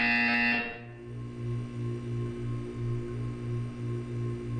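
A Portal 2 test-chamber buzzer sounds as a steady pulsing electronic drone, a loud tone briefly at the start, then a repeating low throbbing buzz with regular beats, with no voices.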